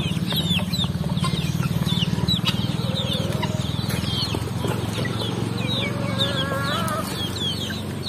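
Native chickens clucking on a farm in the morning, several birds close by with repeated soft clucks and a few higher calls over a constant low hum.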